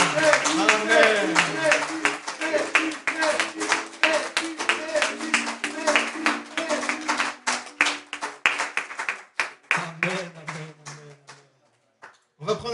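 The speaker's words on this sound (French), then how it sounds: "Alors avec les gens, est-ce qu'on peut l'applaudir?" A church congregation at a French-language service claps in a long stretch of dense, sharp applause, then thins into scattered claps and fades out near the end, with voices and speech mixed in.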